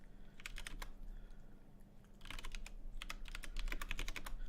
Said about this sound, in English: Sorry guys, I was just typing